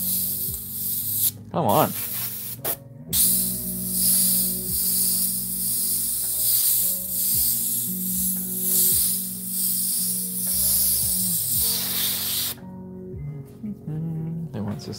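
An airbrush sprays paint in repeated soft hissing bursts that pulse on and off steadily, with brief clicks and a short spoken remark partway through.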